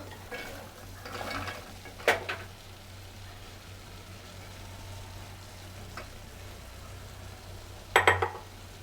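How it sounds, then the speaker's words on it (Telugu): Barbati beans with potato and tomato are stirred in a cooking pot, a soft low hum beneath scattered metal clinks and a sharp cluster of scrapes near the end. "ఇప్పుడు బర్బటీలు వేసుకున్నాం కాబట్టి బర్బటీలను కూడా కలిపేసుకుందాం"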